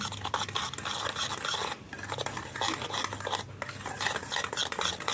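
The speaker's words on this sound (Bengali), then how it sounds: "দিয়ে এটা ভালো করে আমি মিশিয়ে নেব।" Naan puri dough ingredients being mixed in a bowl, busy repeated scraping and stirring with light clinks of utensil against the dish, close and fairly loud, no talk.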